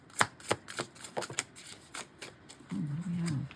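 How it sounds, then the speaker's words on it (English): Tarot cards being shuffled by hand, a series of soft close riffles and taps in a quiet room, ending in a faint low hum. "I'll give it one more shuffle"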